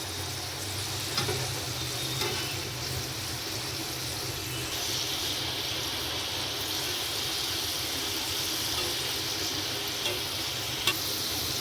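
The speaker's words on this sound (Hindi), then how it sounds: "ये देखिए कितने अच्छे से फ्राई हो रहे हैं।" Potato french fries bubble in a pan of hot oil at home, a continuous even sizzle and crackle with occasional sharper pops, close and steady for the whole stretch.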